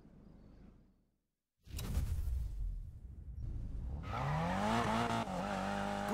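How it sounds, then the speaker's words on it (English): A drifting car in Need for Speed Payback revs up, then its tires break into a loud, sustained squeal with wavering pitch. The squeal follows a brief silence and a whooshing engine burst, with no talking. "Lighting up those tires is a piece of cake."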